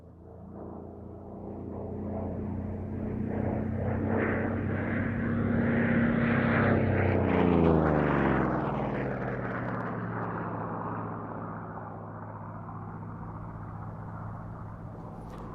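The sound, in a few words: Corsair fighter aircraft flying past at air show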